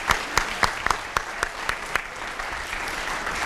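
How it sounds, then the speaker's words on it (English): An audience in a county adoption day ceremony claps, starting with a few distinct sharp claps in an uneven rhythm that blend into a steadier, fuller round of applause. "Let's give a round of applause to Xander McCauley for the music he provided"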